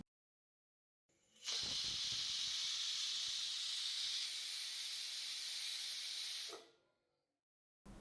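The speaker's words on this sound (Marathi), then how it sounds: "हा कुकर गॅसवरती ठेवून मीडियम हीटवरती आपल्याला याच्या तीन ते चार शिट्ट्या करून घ्यायच्या आहेत" A pressure cooker on medium heat releases a loud, steady whistle hiss of steam for about five seconds, starting abruptly and fading out, with silence around it.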